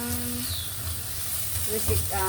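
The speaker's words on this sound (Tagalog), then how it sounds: "pamantikahin muna natin siya" Oil sizzles steadily in a pan while sautéing for a malunggay and eggplant dish, a close, continuous frying hiss with brief talk over it near the end.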